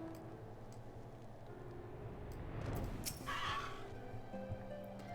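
A small horse mount in Final Fantasy XIV Heavensward gives a faint whinny midway, rising out of a quiet, steady game background with soft hoof-like movement around it.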